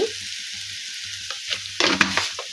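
Cooked rice for mango carrot pulihora fries and is stirred in a pan, a steady close sizzle with scraping strokes and a few louder clattering bursts near the end.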